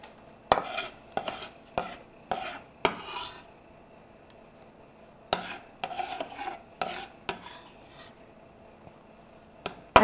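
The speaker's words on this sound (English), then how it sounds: "all we're doing now is just mixing it all up until it's nice and combined." Sesame seeds, chopped almonds and orange zest stirred together in a bowl for Greek sesame honey bars, giving a series of sharp scraping clinks of a utensil against the bowl in uneven bursts, close and clear with pauses between.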